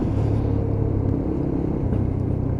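Lexmoto LXR SE 125cc motorcycle being ridden, a steady low engine rumble with continuous droning tone and wind, fairly close and constant throughout.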